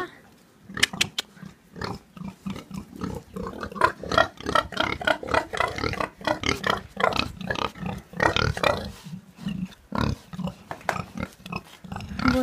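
Pigs on a farm in Italy grunt and snort in short, repeated bursts, close by and irregular, with some scattered background voices.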